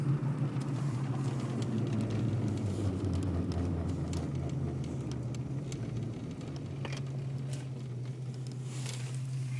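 A car's low, continuous rumbling vibration drones while it brakes down from about 10 mph, a steady hum that swells and eases slightly, alone with no talk.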